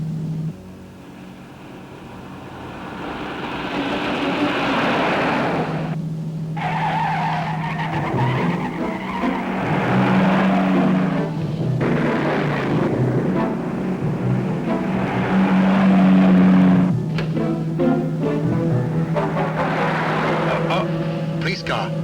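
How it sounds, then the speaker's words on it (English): A police car drives past on a road near Oxford, its engine rising and falling with some tyre noise as it goes by. Voices talk over it at times across a long stretch of steady vehicle sound. "Police car."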